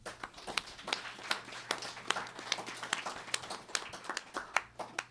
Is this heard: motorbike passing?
no